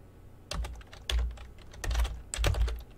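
Close typing on a computer keyboard while installing OpenSUSE Leap 15.0, heavy thumping keystrokes in a few quick clustered bursts, alone with no talk.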